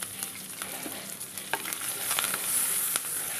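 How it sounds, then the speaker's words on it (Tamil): Curry leaves and dried chillies frying in a pan for a Kongunadu-style cauliflower kuruma, stirred continuously: a steady close sizzle with light scraping and clicking from the spoon, no voices. "கிளறி கொடுத்துட்டே இருக்கணும்."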